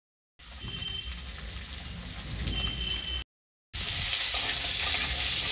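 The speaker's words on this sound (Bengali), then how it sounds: "এই রাঙা আলু পটলটা একটু ভেজে নেব" Sweet potato and pointed gourd fry in oil tempered with five-spice seeds, a steady close sizzle with stirring that breaks off briefly near the end and resumes louder.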